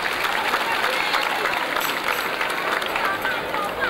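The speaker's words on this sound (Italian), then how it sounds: "Un applauso." Steady audience applause at a 1995 majorettes event of the San Giacomo music circle in Capizzi, dense and even throughout with a faint crowd murmur underneath.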